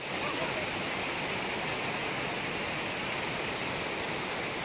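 Rain-fed water rushing near Marleshwar temple in the Konkan hills, a dense, steady roar of flowing water heard close and unbroken throughout.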